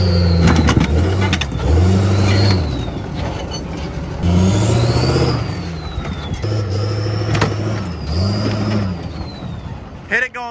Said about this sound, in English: We crush the Kawasaki 3 tracks.